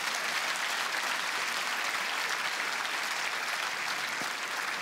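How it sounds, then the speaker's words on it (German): Steady, dense applause from a comedy show audience, a continuous wash of clapping hands filling the room at even loudness with no talk over it. "Ja, Applaus, Applaus."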